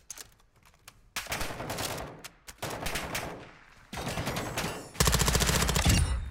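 Gunshots in Call of Duty DMZ crack out in repeated bursts of automatic fire, building from scattered shots to a loud, rapid final volley.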